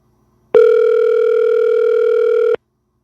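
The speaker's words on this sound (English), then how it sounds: "We're waiting for those ringtones to have a pickup." A telephone rings steadily for about two seconds while waiting for a caller to pick up during a racing talk show. The tone is loud, close and unbroken, with silence before and after and no talk.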